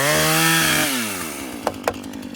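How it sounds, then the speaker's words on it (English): A Husqvarna 440 chainsaw engine whines loudly and then drops in pitch as it bites into wood, with a couple of sharp knocks near the end. "Chainsaws are meant to be opened up."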